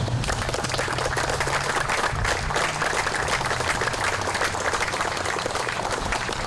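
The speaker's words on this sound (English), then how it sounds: "Give them a round of applause, please." Outdoor crowd applause at a Memorial Day ceremony in Park Ridge, a steady, dense wash of clapping that holds evenly for the whole stretch with little talk.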